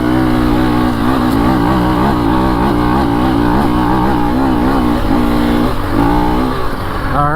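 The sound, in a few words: dirt bike engine in third gear on woods trail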